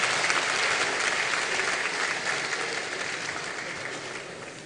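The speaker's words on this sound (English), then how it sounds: "May I kindly ask that we clap for ourselves as we are also duly acknowledged." A conference audience at a bar association annual general meeting claps continuously, a thick, even wash of applause that fades slightly toward the end.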